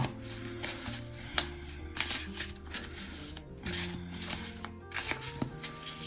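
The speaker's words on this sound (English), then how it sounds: "These cards are so big and they're so hard to shuffle, honestly." Large tarot cards are shuffled by hand, giving repeated papery riffles and soft slaps in irregular bursts, close and fairly quiet, with faint background tones underneath.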